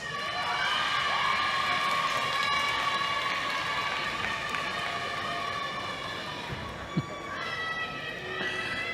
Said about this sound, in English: a large cheering contingent this morning for Superintendent of Police David White